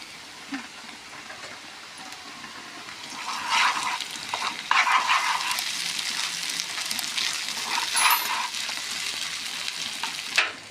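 Ginger-garlic paste frying in a pan for an egg bun curry, a soft steady sizzle that swells louder midway and holds, with no talking.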